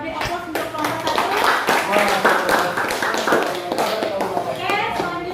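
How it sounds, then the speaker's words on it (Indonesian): A classroom audience of children claps for a student presentation group, a dense, sustained patter of many hands with scattered taps and kids' voices mixed in throughout. "sekali lagi beri aplaus untuk kelompok 1"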